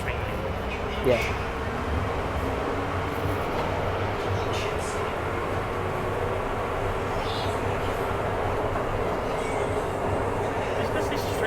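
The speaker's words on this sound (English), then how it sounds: "Are you going to let the train in?" Hong Kong MTR train pulling into a station platform, a steady low rumble and rolling hum filling the space at moderate level, with a brief voice near the start and faint hiss above.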